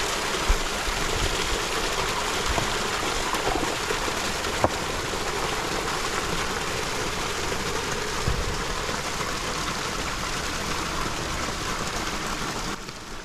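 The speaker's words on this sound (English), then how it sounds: "So while this waterfall is filling up" Water pouring down a newly turned-on backyard pond waterfall, a constant broadband rush that stays even and close throughout with only a few faint clicks and no voices.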